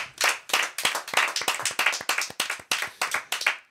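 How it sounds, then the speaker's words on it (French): Studio applause on a radio show welcoming back its youngest member: quick, steady clapping from a small group, close and continuous without talk. "Et puis je voudrais qu'on applaudisse le grand retour du petit de la bande, Monsieur Maël."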